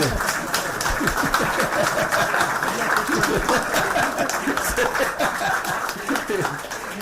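Audience applause at a law day celebration, a steady dense patter of many hands clapping throughout, fairly loud, with some chuckling and murmuring mixed in.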